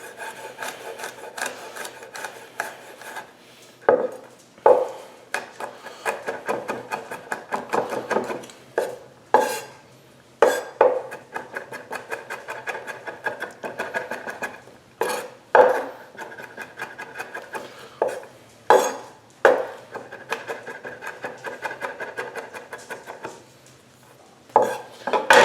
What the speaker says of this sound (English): Mince the garlic clove.